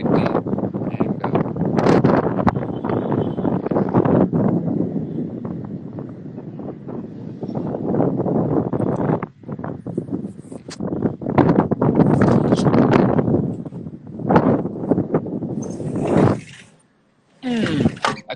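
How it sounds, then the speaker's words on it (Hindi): Strong gusts buffet a phone microphone outdoors on a windy evening, producing loud low roaring bursts that swell and drop, briefly cutting out near the end, with no clear speech over it. "एक्चुअली बहुत ज्यादा हवा चलती है"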